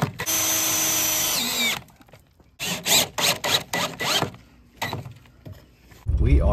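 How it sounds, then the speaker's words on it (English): A power drill drives screws into a half whiskey barrel to hold its metal rings, a long steady whine followed by a series of short stop-start bursts, then a loud final whir, all close and loud. "we're gonna put a couple of screws in it to make sure those rings don't fall"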